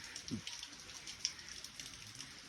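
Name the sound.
rain falling outside in a village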